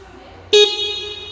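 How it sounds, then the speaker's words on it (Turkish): A Kuba Blueberry 50cc scooter horn gives one short, close beep with a lingering buzzy tone. "Şöyle bir kornası var."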